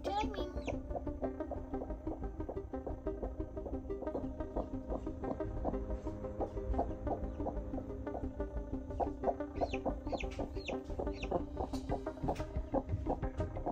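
A hen clucks in a low, steady run of soft notes, with a few sharper calls near the end, heard close up with faint background noise and no talking.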